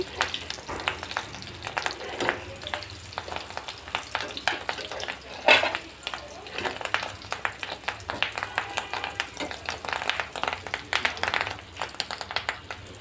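Rohu fish roe fritters fry in a pan and are flipped, giving a continuous crackling sizzle dotted with dense, uneven pops and scraping stirs, close and moderately loud throughout.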